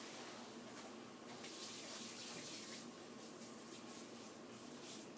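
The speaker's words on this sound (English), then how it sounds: "So I'm just going to go over here and wash my hands." Hands are washed under a running tap in a steady, broad splashing rush of water with soft rubbing, continuous and close.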